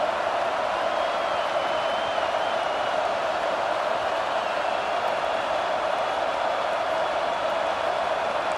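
Steady stadium crowd roar in the College Football 25 video game, a dense continuous wash of cheering that holds at an even level throughout with no breaks.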